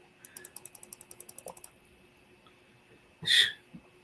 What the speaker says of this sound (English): I can hear you clicking your mouse.